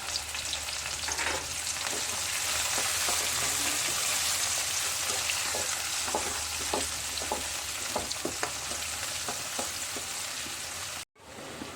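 Garlic and small shallots sautéing in a pan for a Kerala thoran, a loud steady sizzle and crackle close up with occasional stirring, ending in a sudden brief cut.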